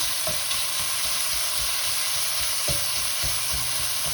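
Bacon sizzles steadily in a hot pan, a dense crackling hiss, with a few soft scrapes and taps as it is stirred.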